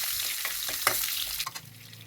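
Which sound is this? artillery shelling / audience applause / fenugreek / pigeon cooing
fenugreek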